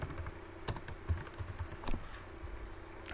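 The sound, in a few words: typing on a computer keyboard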